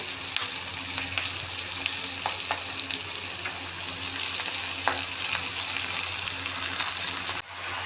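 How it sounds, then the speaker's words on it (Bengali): Sliced cabbage sizzles and crackles steadily in a hot pan, with occasional stirring clicks and scrapes, continuous and close throughout. "কপিগুলো কেটে রেখেছি, কপিগুলোকে দিয়ে দিচ্ছি।"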